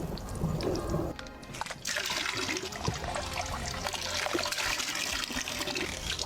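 Water and lotus root starch pulp are strained a second time while making lotus root cake from scratch, giving a continuous close trickling and pouring with a brief pause partway through.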